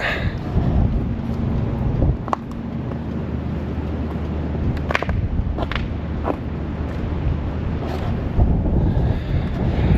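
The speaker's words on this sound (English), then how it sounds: "the wind is blowing" Strong storm wind buffets the microphone in a steady, loud roar at a campsite beside a van, with a few gusty peaks and no talk over it.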